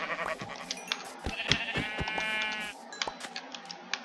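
Several sheep bleats from Minecraft, a wavering harmonic baa in the middle of the clip, set among clicks and game sound effects with no talk.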